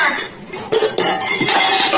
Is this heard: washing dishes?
yes